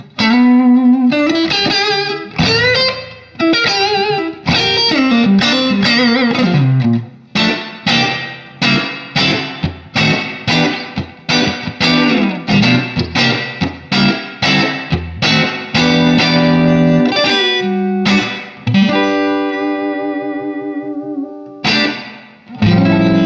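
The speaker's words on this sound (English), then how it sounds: "So we just got a little reverb and the naked signal here." Electric guitar played through a Spaceman Saturn VI effects pedal with a little reverb and an otherwise clean signal, sounding loud and close as strummed chords and picked notes ring with a short reverberant tail.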